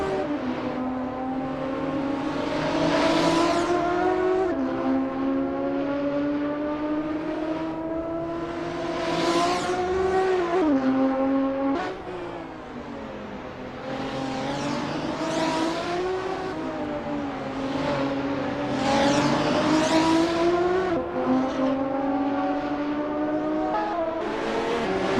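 Race car engines in a sim racing game at the Nurburgring GP circuit during warm-up, steady high-revving drones rising and falling with gear changes and passes, loud and continuous with no talk.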